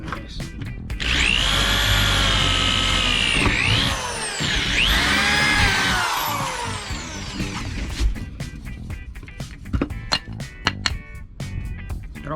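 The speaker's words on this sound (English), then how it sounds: "Got all 4 holes drilled." A power drill whines loudly for several seconds drilling bolt holes for a sheet block on a Gemini 3200, its pitch sagging and rising as it bites in, followed by a run of sharp clicks and taps.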